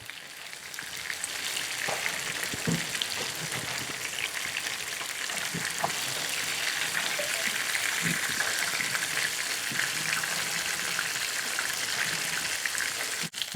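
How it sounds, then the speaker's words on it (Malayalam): Prawns fry in a pan with a constant soft, crackling sizzle that goes on steadily and alone, plus a few faint clinks. "ഫ്രൈ ആയിക്കൊണ്ടിരിക്കുന്നു."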